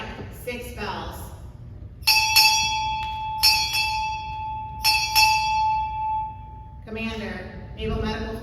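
A ship's bell strikes six bells in pairs at a naval change of command ceremony, ringing loud and clear with a long metallic decay, while an announcer speaks before and after the strikes.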